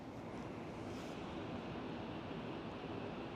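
Ocean surf on the Sonoma Coast washes in as a faint, steady hiss of breaking waves mixed with wind buffeting the microphone, with no voices.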